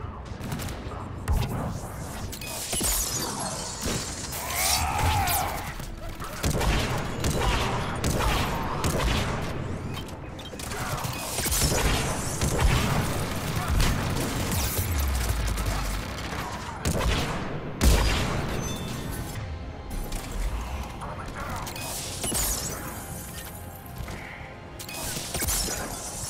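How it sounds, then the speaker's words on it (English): Heavy cannon fire and explosions roll through a Mass Effect Legendary Edition battle on PS5, dense bursts of booms, gunfire and crashes overlapping continuously, loud and chaotic with brief voices in the mix. "Those cannons have to be stopped."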